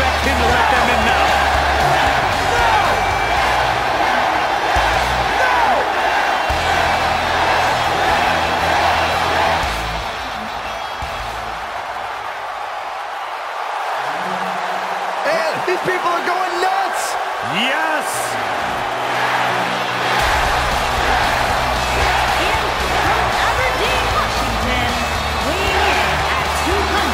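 Wrestling arena crowd in a WWE video game, a steady loud roar of cheering that dips for a few seconds midway before swelling back up.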